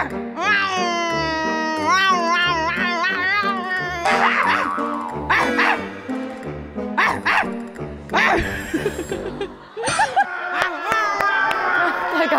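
A person vocally imitates a cat and a dog fighting at a televised talent show, with rapid alternating meows, yowls and barking yips, loud and close, over constant background music and crowd noise.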